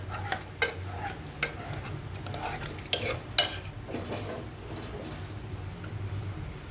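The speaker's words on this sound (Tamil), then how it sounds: "இதை வந்து இந்த மாதிரி கரண்டி வச்சு நல்லா மிக்ஸ் பண்ணிக்கலாம்." A metal ladle scrapes and knocks inside a pot while mashing cooked green gram for sambar, giving soft, irregular clinks and taps that are fairly faint and close, with no talking.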